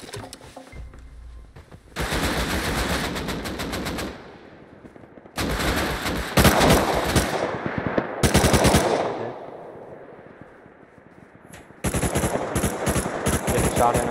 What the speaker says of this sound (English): Getting shot into my back.